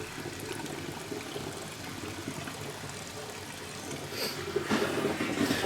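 A garden pond pump pushes water through a filter into a barrel, giving a steady close gushing and splashing that swells slightly toward the end.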